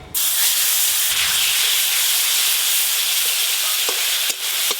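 Whole cumin seeds temper in hot oil for a crab curry, giving a loud, continuous close-up sizzle and hiss with faint crackles throughout.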